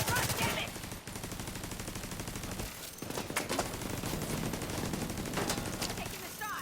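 Rapid automatic gunfire from The Division 2, a dense rattling stream of shots with brief pauses between bursts, loud and close.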